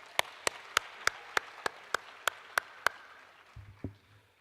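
At a university graduation ceremony, about ten crisp claps land in a steady, evenly spaced rhythm, fairly quiet and distant, followed by a low thump at the end.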